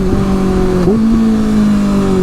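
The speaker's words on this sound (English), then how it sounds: "Pull in your clutch, a little bit of revs, and then downshift, and then let go of your clutch." A motorcycle engine rev-matches during a downshift while slowing for a red light, a loud, close steady drone with a quick blip in pitch before settling back into an even hum.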